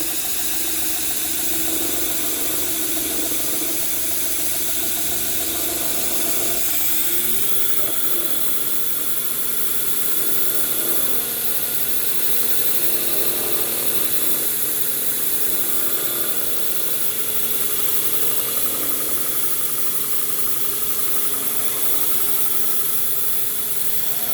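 An OBM Dominator 2x72 belt grinder running steadily, a continuous loud motor and belt whir with a shift in tone partway through as it spins up, no talking.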